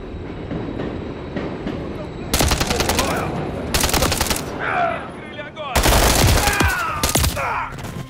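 Loud automatic gunfire in Call of Duty: Modern Warfare III, several long rapid bursts of close rifle fire separated by short pauses, with shouted voices and radio chatter between the volleys.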